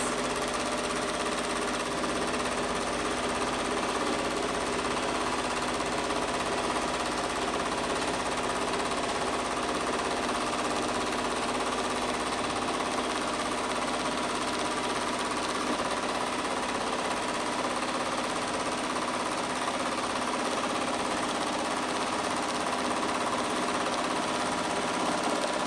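A home sewing machine quilts a quilt block, giving a fast, steady mechanical hum and needle chatter that runs unbroken for the whole stretch, close and even, with no talk.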